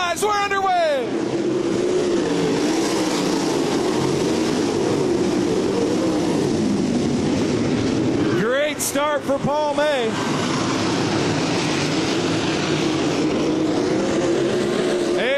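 Stock race cars at a MOWA heat race roar away together at the green flag, engines loud and continuous with a pack of cars sweeping past close by midway, all under an excited announcer's commentary.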